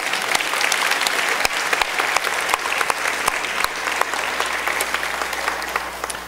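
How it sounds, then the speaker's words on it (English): A sustained round of applause from a gathered crowd, with dense continuous clapping at a steady, fairly loud level, a few sharper claps standing out and a faint low hum beneath. "if everybody could join me in giving them a round of applause, I would really appreciate it"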